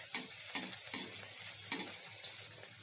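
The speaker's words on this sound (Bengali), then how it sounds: "এখন আমি একটা তেলের মধ্যে দিয়ে দিলাম, আর উপর থেকে একটু গরম তেল ছিটিয়ে দেবো।" Dough made with cooked rice puffs in hot oil as more oil is splashed over it, giving a soft, continuous sizzle punctuated by several sharp spoon taps and splashes at irregular intervals.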